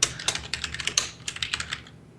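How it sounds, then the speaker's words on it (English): Rapid typing on a computer keyboard, close and crisp, with uneven bursts of clicky keystrokes that trail off toward the end, heard alone without speech. "That typing."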